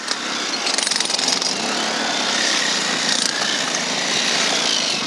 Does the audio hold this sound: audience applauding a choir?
no